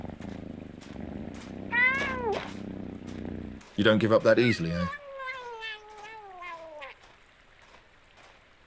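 A video game cat meows several times in rising and falling calls, one harsher and louder, over soft background music, with a character speaking briefly.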